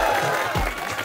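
Audience applause at a college canteen gathering at Gurukul Kangri University in Haridwar, a dense wash of clapping that fills the short moment at steady loudness.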